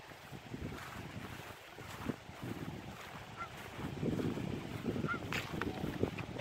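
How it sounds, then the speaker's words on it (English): Geese honk repeatedly in a loose, overlapping chorus at moderate distance, with a breezy outdoor background. "Oh, there are the geese."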